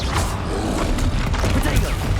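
The Descendo spell going off in the video game Hogwarts Legacy, a dense, loud burst of rumbling impact and crashing noise that holds throughout, with a voice calling out over the blast.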